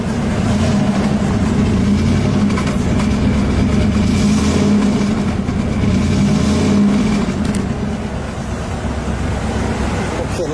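Truck engine and exhaust give a smooth, deep roar while driving on the road, loud and continuous from start to finish, easing slightly toward the end, with road noise beneath it.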